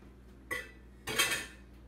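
Two short metallic clatters as food is set into a prepared roasting pan beside pork, the second louder and more rattling, close and alone with no talk.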